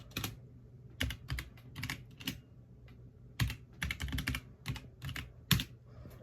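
Close, uneven bursts of computer keyboard typing with short pauses between clusters of keystrokes, entering an IP address and login details during a Klipper install, heard on its own without speech.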